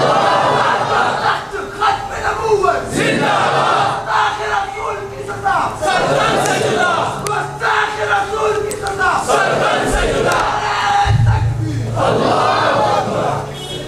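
A large crowd chants a religious slogan in unison at a gathering addressed by the cleric Mufti Abdulwahid Qurashi, loud rhythmic shouted phrases rising and falling across the whole stretch with voices massed together.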